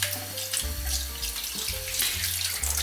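Tap water runs steadily into a sink as quinoa is rinsed, a continuous close splashing stream with a low background tone and no speech.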